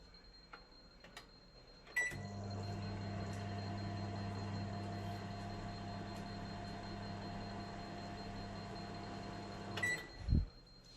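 A microwave oven runs steadily for about eight seconds with a constant electrical hum and buzz, framed by sharp clicks at start and stop and a brief louder clunk as it ends.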